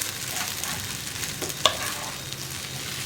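Vegetable noodles are stirred in a pan, a soft continuous sizzle with light scraping and a single brief clink midway, fairly quiet and without talk.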